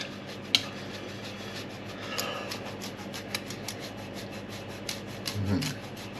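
Cheese is grated onto a lasagna with a faint, rhythmic rasping scrape that repeats in quick strokes, quiet and close, with an occasional clink.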